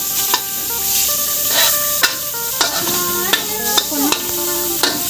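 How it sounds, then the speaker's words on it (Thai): Minced pork sizzles loudly in a hot pan, sticking to it, while a utensil scrapes and clacks against the metal in repeated stirring strokes. "หมูสับ ใส่ลงไปครับ แล้วคุณครับ โอ้โหติดกระทะ"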